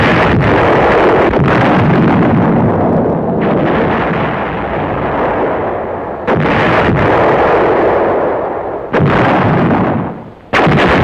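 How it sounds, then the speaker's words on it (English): Artillery shells are fired at the Anzio beachhead, heard as a continuous roar of loud booming salvos and rumbling detonations, broken by a few abrupt cuts. "Daily, nightly, endlessly, there was the exchange of shells of varying sizes, weights, and types, fired out from and into the battered beachhead."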